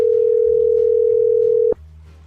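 A telephone ringback tone on an outgoing call, one steady electronic tone held for nearly two seconds before cutting off to a quieter line hum.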